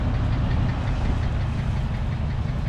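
A 1991 Mercedes-Benz 420SEL V8 sits idling, giving a steady, close low rumble with an even mechanical pulse and no voices over it.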